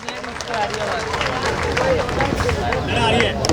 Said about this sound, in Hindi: एक बार उनके लिए सम्मान कर दे, ताली बजा के